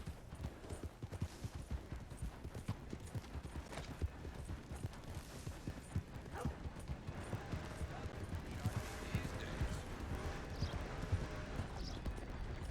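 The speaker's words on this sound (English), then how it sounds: "I'm gonna hitch my horse right here." A horse's hooves clip-clop at a steady trot in a video game, a quiet, continuous rhythm of hoofbeats with faint creaks mixed in, without any talk.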